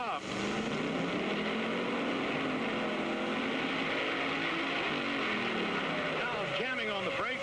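A 1956 Ford with a 1966 Hemi Chrysler engine pulls away at a 1968 state championship in Syracuse. Its loud, continuous engine roar rises and falls in pitch under an announcer's commentary.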